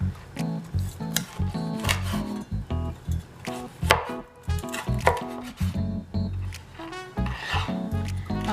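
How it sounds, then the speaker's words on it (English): A knife chopping through crispy air-fried pork belly on a cutting board, irregular crunchy cuts with a crackling crust, close and loud, in bursts separated by short pauses. "I'll start chopping it up."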